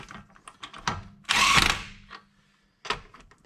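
An impact wrench spins a lug nut onto a wheel stud of a 2009 Ford Escape during front wheel bearing work. A loud, close ratcheting whir bursts for about a second between lighter mechanical clicks and knocks.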